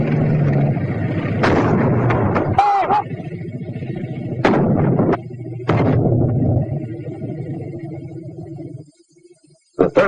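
A 37 mm anti-tank gun fires at a tank in a wartime training film: several sharp, heavy blasts at irregular intervals, with rumbling echoes and a quiet pause before a final shot.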